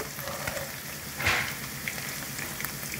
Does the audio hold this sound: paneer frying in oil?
yes